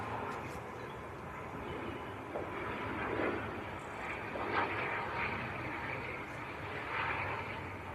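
An Aer Lingus ATR 72 turboprop at Manchester Airport, a moderate, steady propeller and engine drone with slight swells, heard at a distance over outdoor ambience.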